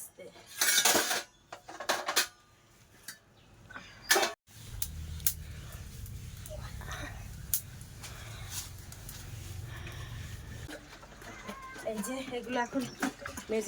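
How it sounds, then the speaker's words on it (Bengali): Dishes, pots and cutlery are scrubbed and washed by hand, with loud clattering metal clinks up front, then a running-water hiss and scraping, while a person talks throughout. "কিছু মাজা ঘষা করে আসবো মাজা ঘষা করে এসে তারপরে দুটো খেতে বসবো এই যে পরিষ্কার করবো এখন মেজে"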